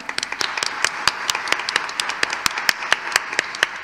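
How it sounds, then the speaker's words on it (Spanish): Audience applause at an international conference event, a sparse close round of individual hand claps in an irregular rhythm, with a faint murmur underneath. "Le damos un fuerte aplauso a Yanina."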